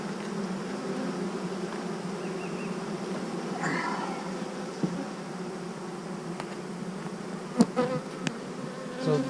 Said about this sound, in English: So the bees had all moved to the top.